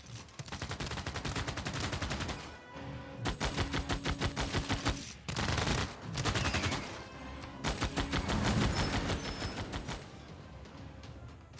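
Rapid volleys of gunfire from units in the strategy game Civilization VI, dense machine-gun-like bursts repeating in waves with brief pauses, loud and close, no talking.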